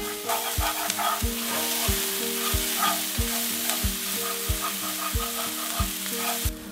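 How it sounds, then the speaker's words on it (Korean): Chopped onions stir-fry in a pan with leftover steak drippings while the pan bottom is scraped, giving a loud, continuous sizzle with rhythmic scraping strokes close up. "다진 양파를 올려서 볶아주세요"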